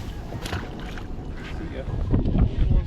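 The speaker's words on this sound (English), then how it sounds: "this wind is brutal" Strong gusting wind buffets the microphone on a boat out fishing on Castaic Lake, a loud rumbling roar that swells toward the end, with a voice speaking briefly under it.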